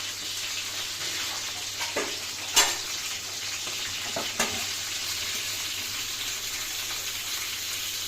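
Mutton frying in a pan and being stirred to mix, giving a continuous low sizzle with a couple of sharper scrapes and knocks from the spoon, close by and with no voices.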